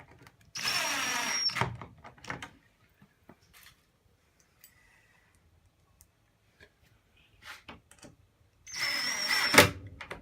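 A power drill drives screws into interior door hinges in two short bursts of whirring, each rising in pitch, separated by quiet pauses with faint clicks and handling noise.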